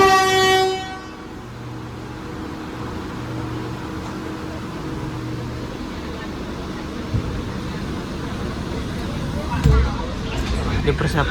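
Passenger train on the new Caruban–Solo route pulling into Solo Balapan station, with a steady low rumble of rolling cars, a brief high tone at the start, and a couple of louder knocks near the end beneath faint voices.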